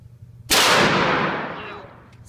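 A single close, very loud shotgun blast with a sharp onset and a long decaying rumble and echo trailing off over about two seconds.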